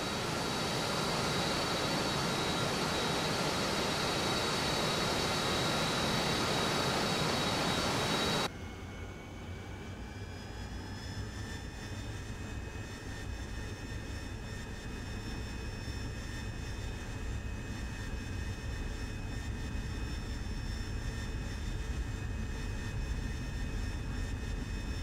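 In the DCS flight simulator, a jet's engines roar loudly and steadily while the aircraft taxis toward the runway, then the sound drops abruptly to a quieter cockpit drone with a high-pitched whine continuing throughout.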